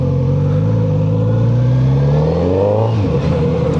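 A 2026 Kawasaki Z900RS motorcycle engine revs loud and close, its pitch climbing steadily then dropping off near the end, with no talking over it.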